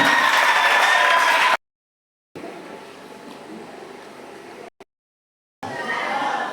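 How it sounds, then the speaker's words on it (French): A church congregation applauding and cheering for Jesus: dense, steady clapping in loud bursts, cut by short stretches of silence, then swelling again. "On acclame pour Jésus."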